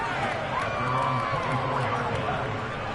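A football stadium crowd at a Jets game makes a broad, sustained roar and hubbub, steady and dense throughout, with a voice talking faintly over it.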